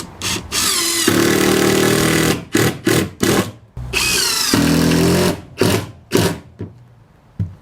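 Ryobi, AEG and Milwaukee impact drivers drive screws in turn, each giving a loud close whirring, rattling hammer burst of a second or two separated by short pauses, with the last runs shorter and choppier.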